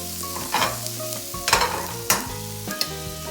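Salmon frying in a pan, with several short bursts of sizzle and scraping stir sounds over a steady background, loud and close, with no talk.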